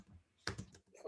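A short burst of a few computer keyboard keystrokes, close and quiet, lasting about a second.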